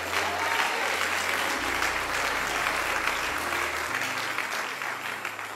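A church congregation claps steadily and fairly dense at an evening service, a continuous wash of hands with a low hum beneath it, easing slightly toward the end.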